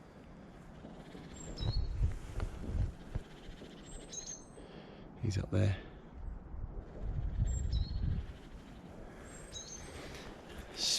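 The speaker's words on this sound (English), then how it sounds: "You hear the birds?" Birds sing outdoors in early spring with scattered high, faint chirps and short calls at a distance, over rustling and footsteps, and someone speaks briefly.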